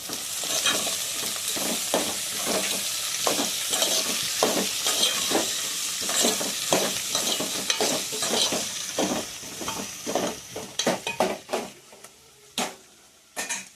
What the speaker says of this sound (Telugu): ఈ దొండకాయలతో పాటు ఉల్లిపాయ కూడా వేగిద్దండి.